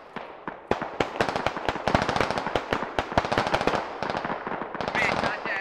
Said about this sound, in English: he is shooting at Paladin. AT4 misses, overshooting the hill by about 10 meters.